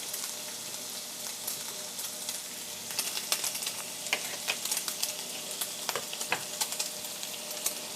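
Pork fries in its own rendered fat with onions in a pan, a soft continuous sizzle with sparse crackles and pops, no talking.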